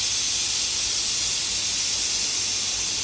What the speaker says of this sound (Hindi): मसर मेरे गल गए थे, सीटी आ गई थी